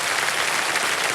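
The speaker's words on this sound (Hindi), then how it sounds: "तालियां बजती रहें इनके लिए" Thick, continuous studio audience applause on the Kaun Banega Crorepati quiz show, loud and steady throughout with no speech over it.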